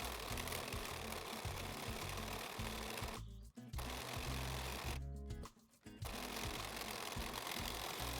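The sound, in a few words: sewing machine sewing fabric pieces together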